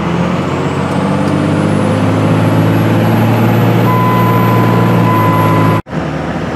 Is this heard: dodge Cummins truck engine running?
yes